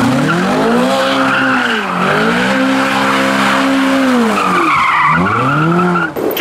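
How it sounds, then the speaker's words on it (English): A Ferrari F12 doing donuts at a petrol station: loud, continuous tire squeal rising and falling in sweeping arcs over a roaring V12 engine, very close, with a sharp break near the end. "Why not stop and do some donuts?"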